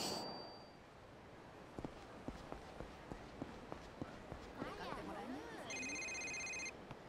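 A phone ringing in the video game Yakuza Kiwami, a bright electronic ring lasting about a second near the end, preceded by a run of soft footsteps.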